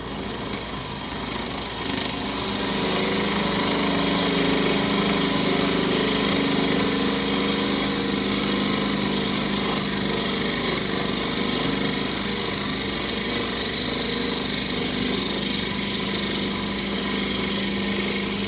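A motor-driven drill running at low speed whirs steadily and loudly for a long stretch while drilling a cholla blank, a constant mechanical drone with high whine, no voices.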